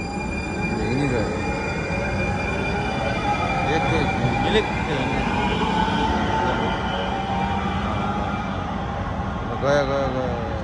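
An electric metro train pulls away from a downtown Houston street stop, its steady rumble and rising motor whine continuous throughout, with a brief wheel screech near the end and a voice speaking over it.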